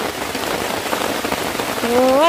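Heavy rain pours steadily in a forest, loud and close, a continuous hiss of drops with a brief tonal sound at the end and no talking.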